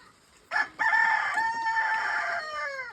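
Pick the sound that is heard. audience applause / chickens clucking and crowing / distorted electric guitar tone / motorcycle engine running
chickens clucking and crowing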